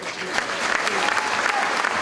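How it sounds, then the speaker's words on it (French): A crowd in a rugby league stadium applauds in tribute to Félix Bergèze, with dense, sustained clapping that stays loud and even throughout. "Et on peut applaudir très fort,"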